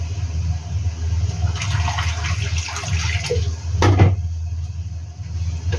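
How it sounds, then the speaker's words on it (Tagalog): Water runs and splashes steadily into a cooking pot nearby, with a low hum underneath and a brief clatter partway through. "Dagdagan ko ng tubig to."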